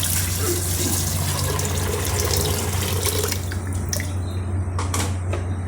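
Water pours steadily over soaked chickpeas in a container for several seconds, splashing continuously, then a few light knocks and drips as the flow eases.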